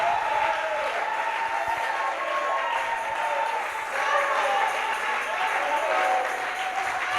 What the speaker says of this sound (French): Can we give a hand of clap?